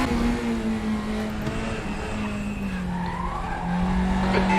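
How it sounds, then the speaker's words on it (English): Tires squealing under locked front brakes on an NSU car in a racing video game at Bilster Berg Westschleife, a sustained tonal squeal over steady engine drone, fairly loud, with no talking. "You're locking your front brakes."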